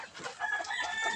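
Hens cluck and murmur close by in a short, busy stretch of chicken chatter with no talking.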